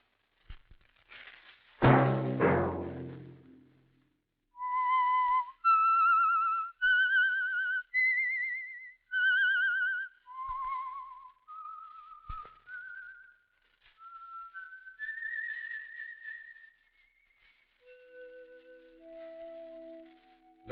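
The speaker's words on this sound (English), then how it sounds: "Let that whistle be your signal" A single person whistles a slow, wandering melody of clear sustained notes, loud and close, after a brief rough burst at the start.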